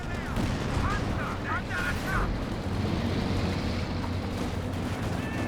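Bazooka rounds striking tanks in a Company of Heroes 2 battle, heard as a dense, steady barrage of booming blasts and rumbling gunfire with a few brief whistling tones, loud and continuous throughout.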